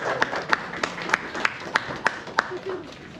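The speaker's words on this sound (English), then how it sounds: "Big clap for Gabriel there." Clapping at a farm nativity play at Christmas: about eight sharp, evenly spaced claps in a slow steady rhythm over a quiet room.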